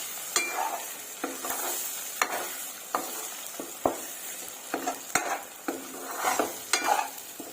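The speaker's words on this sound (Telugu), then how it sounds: "వేసేసుకొని ఒకసారి కలిపేసుకుందామండి. ఇలా మొత్తం కలిసేటట్టు కలిపేసుకుందాము." Beaten eggs sizzling in a hot pan while a spoon stirs them, a steady frying hiss under repeated close scrapes and knocks of the spoon against the pan.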